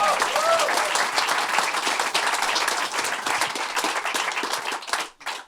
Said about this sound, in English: How about a round of applause for Stan Lynch